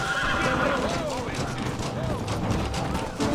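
A horse neighs and whinnies loudly in Red Dead Redemption, with repeated rising-falling calls over clip-clopping hooves and a busy background, alongside speech.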